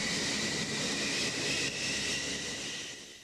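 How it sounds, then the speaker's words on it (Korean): A Grumman F-14 Tomcat supersonic fighter jet roars with a steady, loud engine rush that fades slightly toward the end, with no voices. "영화 탑건에 나오는 초음속 제트기 F-14 톰캣은 적기와 교전을 벌여 섬멸하도록 설계된 전투기다."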